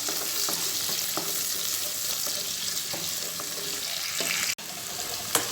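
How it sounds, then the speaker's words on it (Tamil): Garlic sautéing in a pan for dried fish curry, a steady close sizzle with soft stirring scrapes, continuous throughout and briefly interrupted near the end. "கொஞ்சமாக வெள்ளைப்பூடு கட் பண்ணி அது ரெண்டு ரெண்டாக கீறி சேர்த்துக்குவோம் ஒரு மூணு நிமிஷம் நல்லா வதங்கி வரட்டும்"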